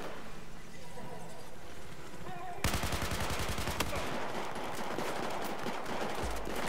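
Gunfire in the video game Battlefield 4, with rapid automatic bursts that break out suddenly and continue densely, close and loud, after a quieter stretch.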